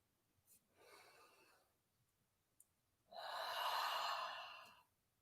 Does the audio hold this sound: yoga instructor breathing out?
yes